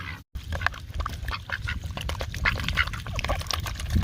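Ducks quack close by while being fed, a busy stream of overlapping quacks and nasal calls over a low rumble of handling noise, with no talk.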